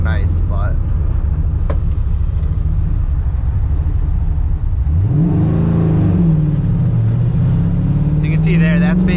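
An Oldsmobile with a swapped LS7 V8 pulls away from a stop, its low engine note rising in pitch midway through under steady cabin rumble, with someone talking over it.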